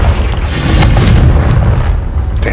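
A Confringo blasting spell from Hogwarts Legacy lands close and loud, a heavy rumbling explosion with crackling debris that sustains through the whole moment.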